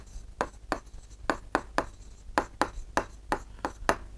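Someone writes on a slide with a pen, leaving a run of quick scratchy strokes in irregular bursts, close and fairly faint, with no speech.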